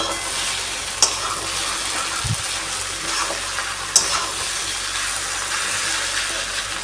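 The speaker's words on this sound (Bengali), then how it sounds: "পেঁয়াজ কুচি দিয়ে ভালো করে মিশিয়ে নেব" Chopped onion frying in a pan, giving a steady soft sizzle and hiss, with a couple of sharp clicks from the spoon or pan and a brief low thump partway through.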